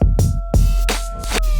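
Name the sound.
reverse kick drum played on Pioneer CDJ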